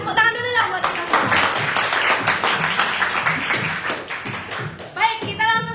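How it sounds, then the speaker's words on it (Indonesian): Students in an online class applaud together, a busy patter of clapping with faint voices mixed in, ending as speech takes over near the close. "Tepuk tangan dulu dong buat kita semua."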